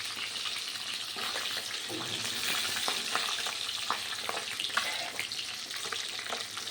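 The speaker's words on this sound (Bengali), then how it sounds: "কড়াইতে তেলটা গরম হয়ে গেছে, আমি মাছগুলোকে এক এক করে দিয়ে দিয়েছি" Pieces of rohu fish fry one by one in hot oil in a wok, a quiet, steady crackling sizzle broken by soft scrapes and taps from turning the pieces.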